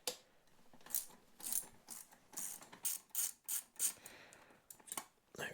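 Ratchet clicking in short bursts while undoing the small orange bobbin spool bolts on a Ducati Hypermotard 950 swingarm, with quick metallic ticks and pauses, close and fairly quiet.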